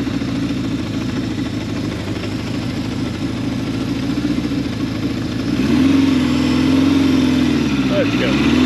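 Honda CB550 motorcycle fitted with a Mikuni carburetor kit, its engine idling with a steady throb, then rising into a brief rev around midway and settling back toward idle, loud and close.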